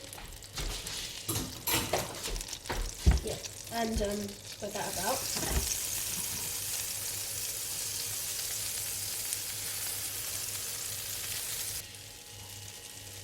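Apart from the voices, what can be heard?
butter sizzling in frying pan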